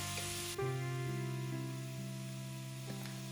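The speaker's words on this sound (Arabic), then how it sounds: "هنجيب زبدة في حلة نسخنها ونحط الكرفس والجزر والبصل ونقلبهم تشويحة كده سريعة" Celery, carrots and onion sauté in hot butter in a pot, giving a steady close sizzle under sustained musical tones after a brief burst of hiss at the start.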